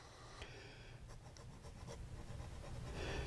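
A fountain pen nib, newly adjusted, gliding over paper in soft, continuous scratchy strokes, faint and close, with a few short taps and lifts and a slightly louder stroke at the end.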